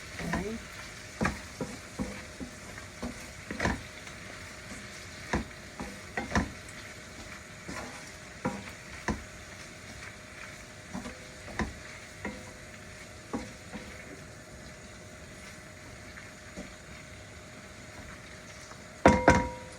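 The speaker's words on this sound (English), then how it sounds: "Now I'm going to allow the seafood to cook beautifully and have all these flavors already mixed." Steady sizzling of seafood and rice frying in a pan, with repeated scraping and stirring clatter at an uneven rhythm throughout.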